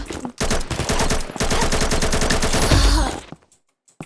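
Rapid automatic weapon fire in the shooter game Combat Master, a dense near burst of shots lasting almost three seconds, briefly broken once, ending in a heavy low thump before fading to quiet.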